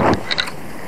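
Wind buffets the microphone on a boat during spring lure fishing for sea bass and octopus, a loud rumbling gust at the start easing into a steady rushing roar, with a couple of faint mechanical clicks.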